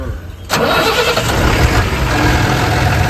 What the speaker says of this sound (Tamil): இப்போ வண்டி விடுங்க